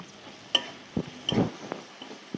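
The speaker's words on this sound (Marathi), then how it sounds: "वाटण चांगलं परतून द्यायचं" A ground spice paste being sautéed with onions in a pan for a Khandeshi bharit, with a soft background sizzle and a few sharp spoon knocks and scrapes, quiet and close.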